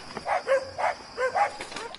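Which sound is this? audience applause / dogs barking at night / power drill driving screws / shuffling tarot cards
dogs barking at night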